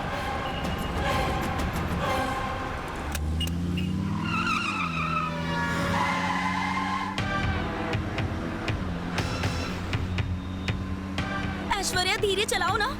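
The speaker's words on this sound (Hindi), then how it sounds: "ऐश्वर्या धीरे चलाओ ना, इतनी तेज क्यों चला रही हो?" A car driven fast in a Hindi TV drama, with a rising engine note and squealing tyres. Dramatic music and voices play over the driving sounds.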